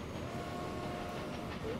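A train rolling along the tracks in the video game Transport Fever, a faint, steady rumble with light rail clatter underneath and no speech.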